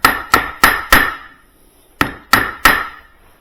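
Nylon end of a hammer striking a part during a charging column rebuild: seven sharp, close knocks, four in quick succession, a pause, then three more.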